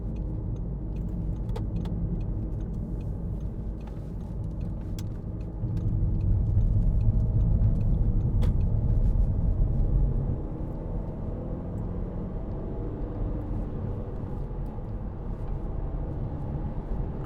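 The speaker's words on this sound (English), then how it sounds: "Great engine, lovely turn of speed." A 2009 Audi A3 2.0 TDI S line diesel hatchback driving, heard from inside as a low steady road rumble that swells for a few seconds mid-run, with light ticks and rattles and no talking.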